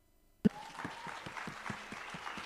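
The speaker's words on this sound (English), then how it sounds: "Let's give him a round of applause." Applause at the EmpowaYouth Week 2022 launch event welcoming a guest, starting with a sharp burst and then continuing as a steady, moderate patter of hand claps from a modest crowd.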